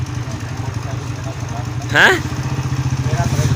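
A motorcycle engine idles close by with a steady, low, even throb, while someone speaks briefly over it.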